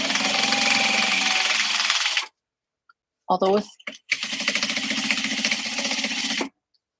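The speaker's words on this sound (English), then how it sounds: "it's a sewing machine and like an embroidery machine for letters as well" A Juki sewing machine driven by a servo motor runs in two bursts of rapid, loud, buzzing stitching, separated by a pause with brief clicks and a short spoken phrase.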